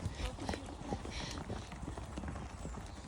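A horse trotting on an outdoor trail, hooves beating a quick, steady clip-clop rhythm close by, with rustling and movement noise around it.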